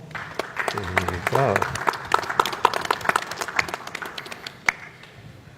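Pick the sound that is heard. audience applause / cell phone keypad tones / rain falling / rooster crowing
audience applause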